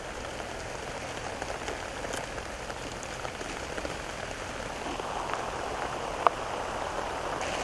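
Rain falls steadily on an allotment vegetable garden in the UK, a constant even patter of drops with one sharper tick near the end. No voices are heard.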